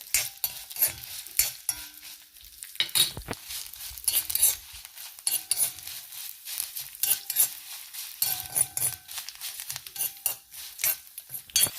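Mustard seeds, coriander and cumin fry in hot oil for a raw jackfruit sambar, with a crackling sizzle under frequent sharp clinks and scrapes of a spoon stirring in the pan.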